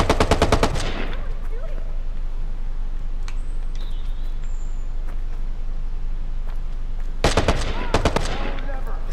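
Automatic gunfire in the video game Watch Dogs, aimed for a headshot: a rapid burst opens, then a quieter stretch of game ambience, then another loud rapid volley near the end.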